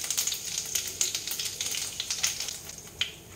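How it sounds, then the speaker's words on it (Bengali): Whole cumin seeds frying in hot oil in a wok, a close, crackling sizzle with rapid popping spurts throughout and no talk. "তেল গরম হয়ে গেলে আমি দেবো গোটা জিরে।"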